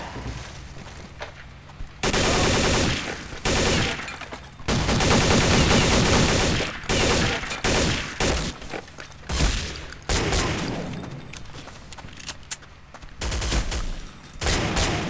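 Rapid bursts of automatic gunfire from the PC shooter Counter-Strike: Condition Zero Deleted Scenes, loud and dense, with long sustained volleys broken by short pauses and no talking.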